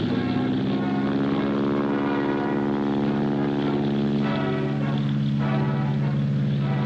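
A World War II era propeller-driven training plane drones steadily overhead, a continuous throbbing engine roar that holds level throughout with no voices.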